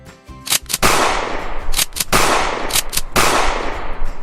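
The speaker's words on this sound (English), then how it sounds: "simply pump the gun and blast with an empty magazine until we have the desired amount of powder" A Nerf shotgun with an empty magazine is pumped and fired again and again, giving a series of sharp, loud blasts with quick decays and short mechanical gaps between shots.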